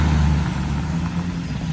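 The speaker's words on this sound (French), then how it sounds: "encore un Urus blanc cette fois-ci" A white Lamborghini Urus rolls past at night while carspotting in Monaco, a steady low engine rumble heard close and fairly loud for a brief moment.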